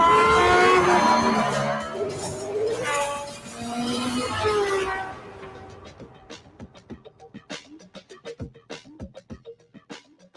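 A race car in a video game lapping the track, its loud engine surging and shifting close by, then a rapid rattle of sharp ticks as the sound cuts back.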